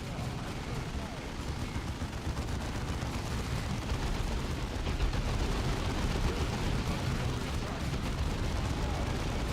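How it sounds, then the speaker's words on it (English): Sustained heavy bolter fire from a Devastator squad in the Warhammer 40,000 game Dawn of War 2, a dense, continuous roar of rapid automatic shots and blasts that holds loud and steady throughout. "Our heavy bolters are deadly, but they take time to set up and have a limited field of fire."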